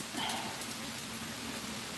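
Steady rain falls in a soft, continuous hiss, heard from indoors near a window, quiet and unbroken for the whole stretch, with no voices.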